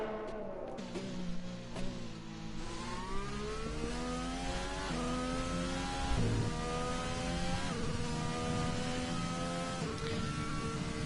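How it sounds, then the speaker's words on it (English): Race cars in a racing video game pulling out of the pits, several engines droning and revving at once with rising and falling pitch sweeps, loud and steady throughout with no talking. "You'll see the cars now going out for their final run."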